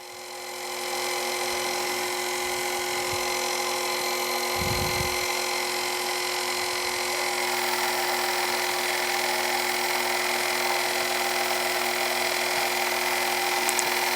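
Metal lathe taking a shallow 5-thousandths turning cut at slightly increased spindle speed: a steady, even machining whine and hum runs throughout, with a brief lower thump near the middle and no talking.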